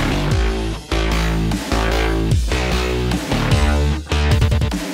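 Synthesizer patch from Agent Method's Future Punk bank playing in a musical context, with dense distorted chords and a throbbing bass line that pulse in steady bursts with brief drops, loud and alone.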